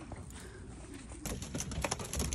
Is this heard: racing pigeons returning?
yes